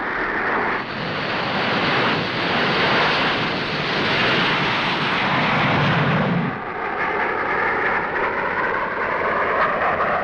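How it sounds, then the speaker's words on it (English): An RAF Meteor jet roars overhead at a 1950 aerial display, a loud broad whistling rush that swells and holds, then drops abruptly as the aircraft passes, leaving a fading descending whine. "Now it was the whistling jet."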